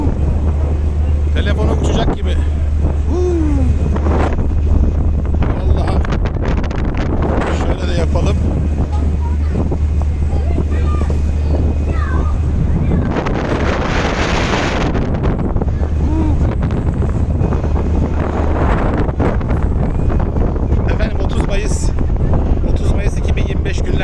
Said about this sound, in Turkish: Kadıköy'den Eminönü Karaköy seferini yapan vapurdayım